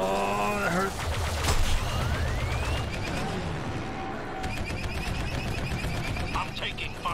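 Rapid bursts of blaster fire and laser zaps crackle through a dense, loud Star Wars Battlefront II space battle, layered over engine roar and explosions with no pause.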